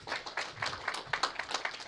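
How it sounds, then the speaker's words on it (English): Audience applause at a women-in-business event, a steady patter of many hands clapping at moderate distance for a couple of seconds, fairly soft, with no talk. "Round of applause for Mary,"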